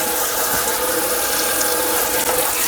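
Lukewarm water runs steadily from a kitchen faucet, a loud, continuous splashing rush that fills the whole moment without pause.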